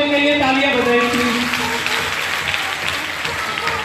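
An audience at a girls' self-defence demonstration applauds, steady close clapping that gradually thins out, with a voice speaking over the start.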